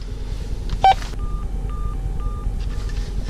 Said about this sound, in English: It's got the corded phone in here